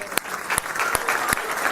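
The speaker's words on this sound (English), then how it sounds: "How about a round of applause?" A live audience at a speaking event bursts into applause welcoming former baseball player Mark Teixeira, steady clapping punctuated by a few sharp, close claps.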